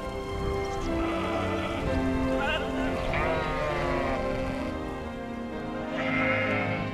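Heath sheep bleat several times on open heathland, wavering calls rising over a steady mid-distance background rumble.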